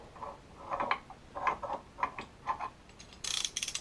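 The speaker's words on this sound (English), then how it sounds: "the torque wrench needs to be at a 90-degree angle on the barrel and on the barrel nut" A torque wrench tightens the barrel nut on a 300 Blackout Proof Research rifle barrel, giving several close, short bursts of ratcheting clicks in an uneven rhythm, ending with a denser rattling run.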